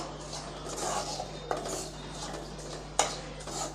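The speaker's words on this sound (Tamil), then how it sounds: "அடுப்பை வந்து சிம்மில் வச்சு நல்லா வதக்கி விடுங்க" Rava and sugar being stirred in a pan over low heat for rava laddu, with a soft scraping of a spoon and a few sharp clinks of metal against the pan, close and fairly quiet.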